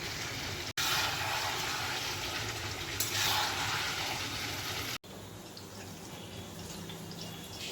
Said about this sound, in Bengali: এখন দেখছি আর 1টা বোতল জল আছে। জল ভরলাম